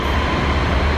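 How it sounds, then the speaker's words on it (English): Steady, loud rumbling roar from inside a fast-moving subway train, a dense continuous wash of wheel and track noise with no voices. "These are the fastest trains."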